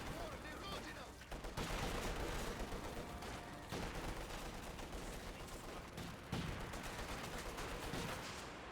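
A Bishop artillery barrage in the video game Company of Heroes 2 sounds as a dense, continuous rumble of rapid explosions and gunfire, loud and unbroken.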